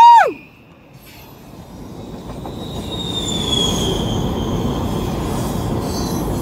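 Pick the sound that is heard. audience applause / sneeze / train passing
train passing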